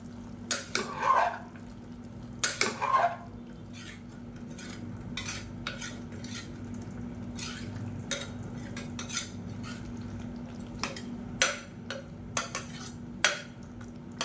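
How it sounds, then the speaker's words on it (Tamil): Spoon scraping and clinking against a pan as fried paneer is stirred into rice, irregular close metallic taps over a faint background hum, no speech. "பன்னீர் சேர்த்துட்டு நல்லா சாஃப்டாக கிளறி விட்டுக்கலாம்"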